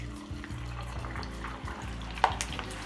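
Sliced potato chips frying in a pan give a steady close sizzle and bubbling that stays continuous, with a sharp clink partway through and no speech.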